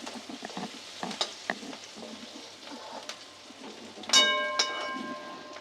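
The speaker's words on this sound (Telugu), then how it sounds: "ఇవన్నీ వేసుకున్నాం కదా కొంతసేపు అయితే వీటిని వేగనిద్దాం" Spices with turmeric and spiny gourd fry in a pan, giving a soft, steady close sizzle with scattered spatter pops and a sharper metallic clink and clatter toward the end, with no talk.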